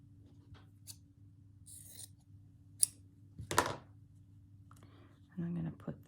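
Scissors snip through a fabric embroidery piece in a few quiet, sharp cuts and rustles, close by in a quiet room, with a low background hum and a short rubbing sound near the end.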